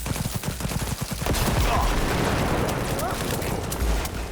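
Gunfire in Cyberpunk 2077 comes as a rapid string of shots that blurs into a sustained roaring barrage, loud and close, with talk mixed in.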